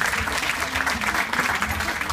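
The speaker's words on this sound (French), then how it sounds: "on peut applaudir" Steady applause from an audience, dense and continuous clapping throughout with some voices faintly mixed in.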